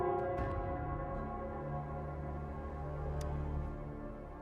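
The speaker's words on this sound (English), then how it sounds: "it's the Nell Squares bell." Church bell ringing in the video game Wuthering Waves, the bell of Nell Square, heard as a sustained tolling hum with lingering overtones, moderately loud and alone without talk.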